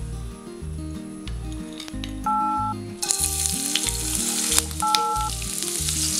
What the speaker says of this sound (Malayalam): എണ്ണ ചൂടായി കഴിയുമ്പോഴത്തേക്കും ഇതിലേക്ക് പനീർ ഇട്ട് കൊടുക്കാം.